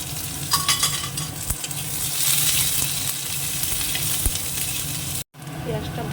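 Chopped onion frying in hot oil with a dried red chilli and cumin seeds, a steady loud sizzle with occasional stirring scrapes and a brief cut near the end.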